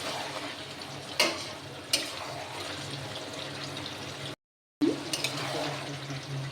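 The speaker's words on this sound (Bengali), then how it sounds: "এবার আমি ঢাকনাটা তুলে নেব, একটু নাড়াচাড়া দিয়ে দেব।" Chicken meat frying in a pan is stirred with a utensil, giving a steady sizzle broken by a few sharp scraping strokes and a brief gap, with no talking.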